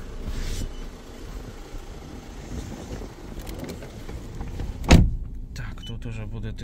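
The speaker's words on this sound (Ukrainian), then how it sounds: "Всі склопідйомники автоматичні" Automatic power windows on a 2015 Volkswagen Tiguan 2.0 diesel hum as a motor drives the glass, a close mechanical whir inside the cabin ending in a sharp thunk, with a person speaking nearby.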